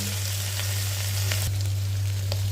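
Ginger garlic paste and masala fry in a hot pan for mint pulao, a loud continuous sizzle up close, broken by a few scraping stirs of a spoon.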